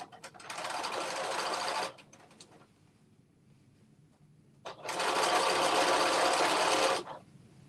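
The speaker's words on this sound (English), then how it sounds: "So let me just sew that closed." A sewing machine stitches an infinity wrap dress closed in two steady, loud whirring runs of about two seconds each, separated by a quiet pause with faint rustling of fabric.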